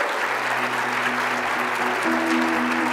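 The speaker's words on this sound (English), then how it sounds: "Another round of applause." Sustained applause from a conference audience fills the space evenly and steadily throughout, with low tonal hum beneath the dense clapping.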